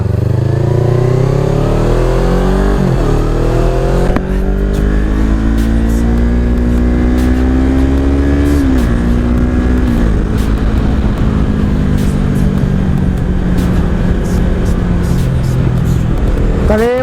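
A motorbike ridden for fun on a holiday outing in Thailand, its engine droning loud and steady throughout with repeated rising and falling revs as it accelerates and shifts, heavy wind rumble underneath.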